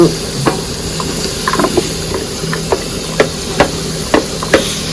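Green chilies are stirred into fried masala paste in a pan for chicken dum biryani, a soft steady sizzle under a few sharp taps and scrapes of the spoon.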